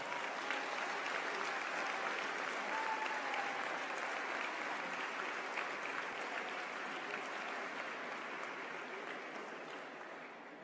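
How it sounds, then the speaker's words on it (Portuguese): Applause from a large crowd of women at a political rally in Vagos, Portugal, a broad, steady wash of clapping heard at a distance, holding evenly and tapering slightly near the end. "uma salva de palmas para elas."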